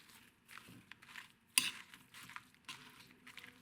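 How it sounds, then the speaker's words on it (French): Poppy, sesame and chia seeds are stirred in a bowl, giving quiet scraping and light clinking strokes with one sharper knock, faint and close. "On va mélanger un peu."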